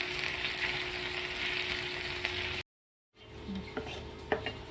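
Water with hing and two spoons of sugar heating in a pan on low gas, a steady soft hiss and sizzle that stops abruptly, then resumes quieter with a few faint clinks.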